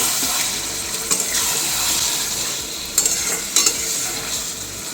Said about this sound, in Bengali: দিয়ে চিকেনটা দিয়ে ভালোভাবে কষে নেব।